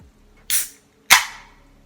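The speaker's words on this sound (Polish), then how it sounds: "otwórzmy puchę i zobaczmy jak smakuje" Can of Doze Classic energy drink being opened, a sharp click of the tab followed by a crisp hiss of released gas, two close bursts in quick succession.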